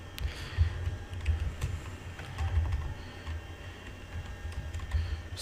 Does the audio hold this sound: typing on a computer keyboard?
yes